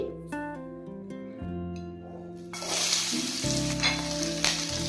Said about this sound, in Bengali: আমি মাছ ভাজা তেলের মধ্যেই পেঁয়াজ আর ক্যাপসিকাম দেবো